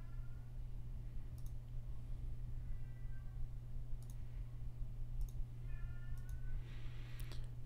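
A house cat meows several times indoors, short and moderately close, over a constant low electrical hum and a few faint clicks.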